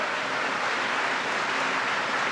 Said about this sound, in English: Let's give both of them a big round of applause